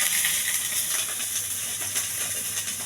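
Okra pieces sizzle in hot oil with curry leaves, green chillies and cumin, giving a close, steady, bright hiss throughout with slight crackling variations.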